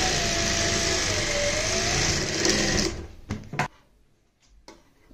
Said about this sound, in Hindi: यहाँ से हम सीधी सिलाई लगाएंगे और इस पॉइंट पे इसको उतारेंगे